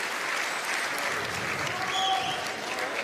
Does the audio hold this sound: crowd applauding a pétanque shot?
yes